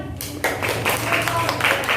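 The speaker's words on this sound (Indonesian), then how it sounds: "Berikan tepuk tangan." Classroom of students clapping after finishing a mirror experiment in a physics lesson, a short burst of many overlapping claps close by, rising sharply and staying busy until the end.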